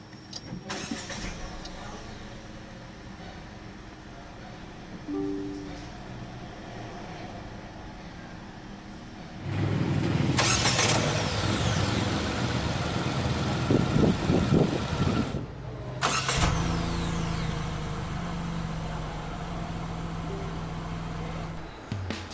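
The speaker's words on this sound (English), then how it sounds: "hit this engine start stop button to fire up the engine" A 2023 MG ZST 1.3 turbo engine cranks via push-button start and catches, then settles into a steady idle, with a second start partway through; no talking.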